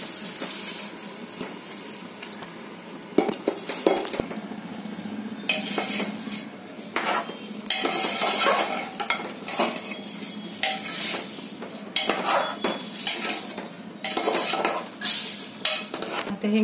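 Rice goes into a pot for lentil pulao and a metal spoon stirs it, scraping and clinking against the pot in irregular bursts over a faint sizzle.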